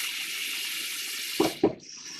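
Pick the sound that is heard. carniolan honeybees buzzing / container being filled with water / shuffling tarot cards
container being filled with water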